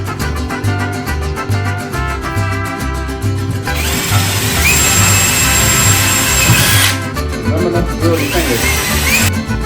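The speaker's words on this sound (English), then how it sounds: "put it right where it goes, and drill your holes again" A power drill whirs in loud bursts, drilling hinge holes in a wooden kitchen cabinet door, its pitch rising and falling as it bites into wood, with short pauses between runs.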